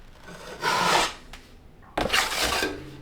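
A drywall knife scrapes joint compound off taped sheetrock seams in two separate, light rasping strokes, each lasting about half a second, close and clear with a short pause between them.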